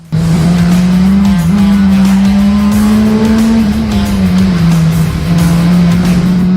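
A stock car races at Cowdenbeath Racewall, its engine roaring loud and close in one steady, sustained drone that rises and dips slightly with throttle, with tyre noise underneath and no talk.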